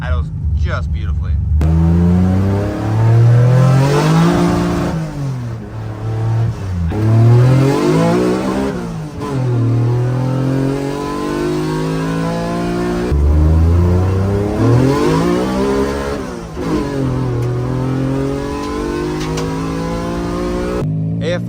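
A freshly tuned Mitsubishi 3000GT revs repeatedly and loudly, with its pitch sweeping up and down through several strong pulls toward high RPM and brief drops back between them.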